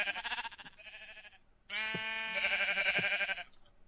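Minecraft sheep bleat on a small farm, a shorter wavering baa followed by a longer, louder one, heard clearly with no talk over them.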